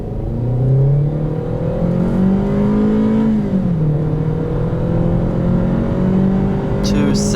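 2020 Kia Optima LX accelerating, its engine drone climbing steadily in pitch, easing briefly around a shift, then rising again, heard from inside the cabin.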